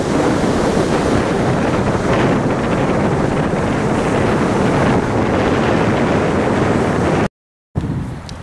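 Strong wind buffets the microphone over a steady roar of ocean surf on a sandy beach at Kill Devil Hills, loud and continuous, breaking off briefly near the end.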